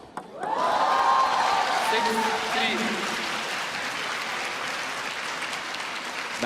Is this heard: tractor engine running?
no